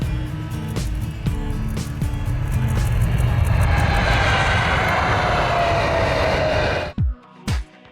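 Lufthansa Boeing 747-8 jet engines roar loudly and steadily, a broad sustained rush with a rising whine, before cutting off abruptly near the end, followed by a couple of brief thumps.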